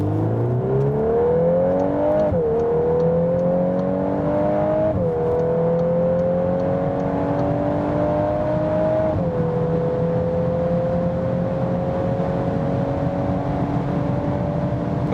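A 2021 Volkswagen Golf 8 R accelerates hard from inside the cabin, its engine note climbing loud and steady through several gears, with brief dips at each upshift before the pitch rises again.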